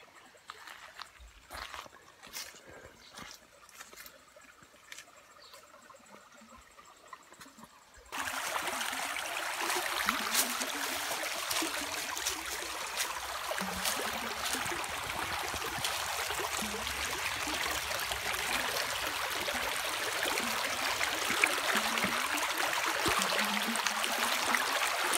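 A shallow stream running by an abandoned village in southern Bulgaria, first a light trickle with scattered knocks and footsteps, then a loud, steady close rush of flowing water as someone wades across, continuing without talk.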